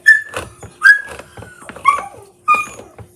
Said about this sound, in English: See? There's a dog. That's our dog.